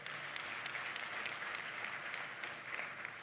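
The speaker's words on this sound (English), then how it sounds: "je vous demande de les applaudir très fort." Audience applause for guests at a gathering in Côte d'Ivoire, a steady, fairly distant wash of clapping holding evenly for about three seconds with no voices on top.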